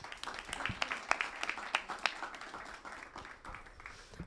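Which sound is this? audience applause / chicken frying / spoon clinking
audience applause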